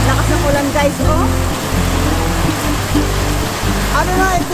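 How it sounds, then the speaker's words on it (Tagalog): Dense, heavy rain roars steadily without a break over a backyard garden in Australia, and faint voices surface briefly beneath the downpour. "Na yung lakas ng ulan guys oh."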